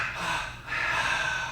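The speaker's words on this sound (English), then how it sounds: "Sniff, sniff through the nose, and then a ha-ha through mouth and nose." Two quick sniffs are drawn in through the nose during meditation breathing practice, a pair of close, breathy inhales with a brief dip between them.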